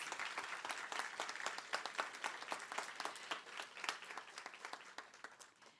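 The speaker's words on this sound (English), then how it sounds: "One more round of applause." An audience at a college honors ceremony gives a round of applause for the honorees, with individual claps distinct in a fairly sparse, moderately quiet patter that swells and tapers over several seconds.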